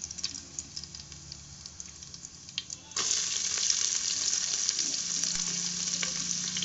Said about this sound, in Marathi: त्याच्यामध्ये आता आपण आपला कांदा आणि टमाटर टाकून घेऊ.